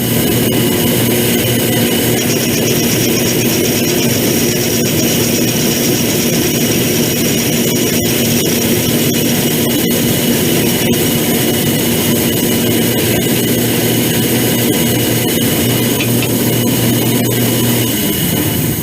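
A metal drill bores through a pilot hole in metal, a loud, continuous droning whine with a steady tone that holds for the whole stretch, near and without speech.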